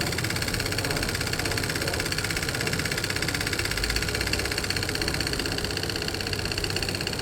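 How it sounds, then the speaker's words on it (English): Piaggio Fly scooter engine running at a steady, fairly loud idle, an even mechanical chatter with a constant buzzing vibration and no break. "Not a bad start. The engine does sound loud though."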